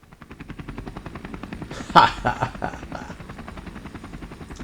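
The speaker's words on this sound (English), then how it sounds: "He turned into a helicopter." In the video game Persona 5 Royal, Mona transforms into a helicopter. Rhythmic rotor thumps quicken, a bright whooshing transformation burst hits in the middle, and the steady chopping pulse continues afterward.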